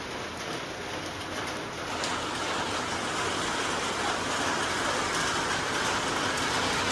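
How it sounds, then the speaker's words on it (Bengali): Continuous rain falling outside a restaurant, a dense steady wash of noise with no breaks, faint traffic and bird sounds buried underneath. "অনবরত বৃষ্টি হয়েই যাচ্ছে"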